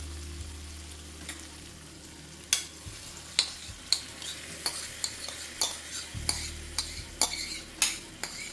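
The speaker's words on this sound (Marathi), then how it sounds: "आणि आता ह्यामध्ये मी घालत आहे ही मटकी" Moth beans go into a pan of cooked onions for matki bhaji and are stirred with a utensil, producing soft repeated scrapes and clinks in a regular rhythm over a faint sizzle.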